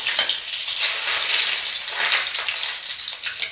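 Two bay leaves drop into hot oil for khichuri, giving a loud, continuous crackling sizzle with bright spitting bursts close by, heard alone without speech.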